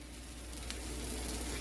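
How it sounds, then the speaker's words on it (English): A taco tortilla warms in a pan, giving a faint, steady sizzle with no one speaking. "And you hear that sizzle and see it?"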